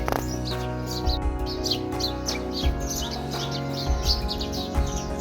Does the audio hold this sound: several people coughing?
no